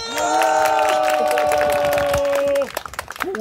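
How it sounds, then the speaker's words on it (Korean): An audience claps at a health forum in Gimpo, with a burst of close, dense applause under a sustained tonal sound that cuts off, leaving scattered claps and light noise. "다시 한번 이 정도 박수 소리도 나야죠."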